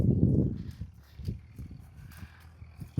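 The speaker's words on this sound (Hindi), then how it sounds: "हमने राइट पॉइंट किया और घोड़ी राइट चल पड़ी।" A mare walks with a steady clip-clop of hooves during a first ride without a bit, the footfalls close and moderately loud with a few quieter steps between, no talking.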